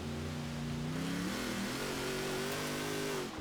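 Revving engine of a Hot Wheels car tuned for drifting in the racing game Forza Horizon 4, a steady loud game-engine drone with the pitch climbing and sliding as the throttle rises and falls, heard alone without talk.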